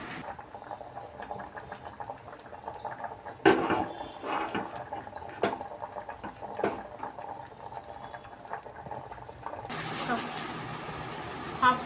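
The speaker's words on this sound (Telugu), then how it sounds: "ఇప్పుడు స్టవ్ ఆన్ చేసుకుని ఐదు నిమిషాలు బాగా ఉడికించుకుందాము" Tomato rasam bubbling in a pot on the stove, with a continuous gurgle of boiling liquid, occasional clinks and a louder rushing burst near the end; a voice talks over parts of it.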